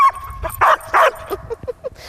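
Kipper, an 18-month-old Labradoodle, letting out a few sharp close barks followed by a string of short whimpers and yips.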